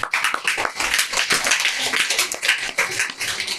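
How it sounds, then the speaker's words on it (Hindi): An audience claps for children who have just performed, with dense, fairly loud clapping from a crowd that is close by throughout. "जिन्होंने परफॉर्म किया, उन लोगों के लिए तालियां बजा दीजिए आप लोग।"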